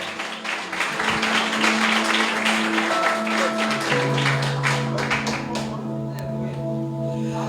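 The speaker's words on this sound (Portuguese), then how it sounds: "Vamos receber o servo de Deus aplaudindo Jesus bem forte" A church congregation at a missions service applauds loudly and steadily, many hands clapping together while sustained organ or keyboard tones play beneath.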